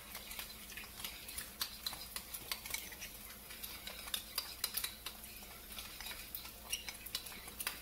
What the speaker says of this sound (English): And then I'm just going to stir it up.